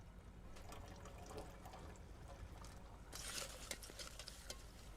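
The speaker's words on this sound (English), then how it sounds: "Just pour it in here." Liquid, apparently acetone, poured slowly into a container, a steady low wash of trickling and splashing noise that brightens partway through, with no talk over it.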